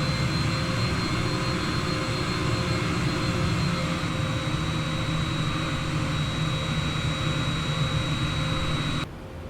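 Simulated Boeing 787 jet engines drone at a steady loud roar while the airliner taxis in Microsoft Flight Simulator, with a continuous high whine over the rumble before the level drops slightly at the end.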